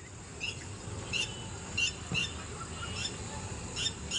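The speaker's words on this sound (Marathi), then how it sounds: "हे बघा पक्षी कसं ओरडतात." Birds calling outdoors near a home, short high chirps and squawks repeating irregularly over a constant soft background hiss, fairly faint and distant.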